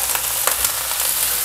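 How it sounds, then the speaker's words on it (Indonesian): Aromatics sautéing in a hot pan, about to be joined by fresh wet anchovies: a steady, dense sizzle that stays loud and even throughout, with no voices. "Ini ditumis wangi dulu, nanti terinya masuk ya."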